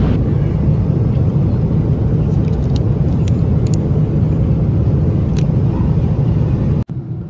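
Steady, loud airplane cabin roar while cruising at about 34–35 thousand feet, a broad constant engine rumble with no talk that cuts off abruptly near the end.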